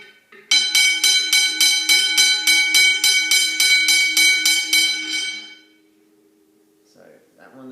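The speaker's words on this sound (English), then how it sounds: "And now I'll ring the bells." Westinghouse hybrid bells, one of them very low pitched, ring loudly in a rapid steady series of strikes for about five seconds, then stop abruptly, leaving a faint hum and a brief trace of voice at the end.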